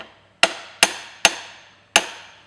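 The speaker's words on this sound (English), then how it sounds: "you can tap the socket at either whatever angle of the socket on the edges" Four sharp metallic taps on a socket driving a differential flange oil seal into a Ford Mondeo Mk5, evenly spaced, each ringing briefly before the next strike, close and loud with no talking.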